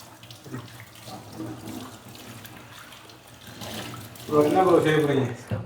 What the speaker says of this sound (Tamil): மீண்டும் மீண்டும் பிளேட் கழுவுறது